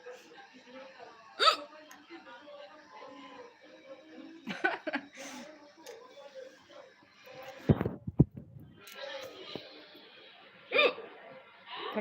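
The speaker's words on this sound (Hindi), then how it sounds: "हिचकी आ गया।" A person hiccups repeatedly just after a meal of hot chili, sharp bursts spread unevenly across the stretch with voices talking and chuckling underneath.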